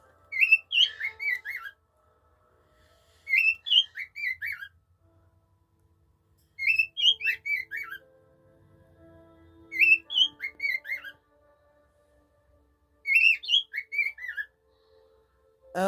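A pet bird sings and whistles in five bursts of bright, chirping warbles at steady intervals, close and clear with quiet gaps between phrases.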